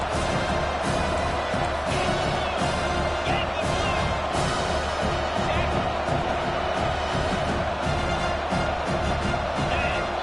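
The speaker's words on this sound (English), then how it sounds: "with this place rocking, the crowd forces a false start" College football stadium crowd roars continuously at UNC vs BC, a dense steady wall of noise for ten seconds with a few thuds and cheers in it.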